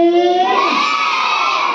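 Children at a school Children's Day puppet show shout the slogan Bharat Mata ki Jai together, a loud, sustained chorus of young voices that swells and holds for under two seconds.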